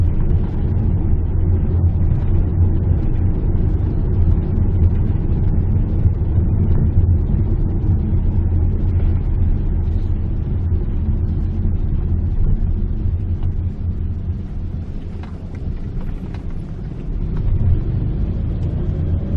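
Steady low engine drone and road rumble inside a Mitsubishi Xpander Cross moving at about 40, fitted with NoiseKill NK60 sound damping, a constant dense hum with no talking.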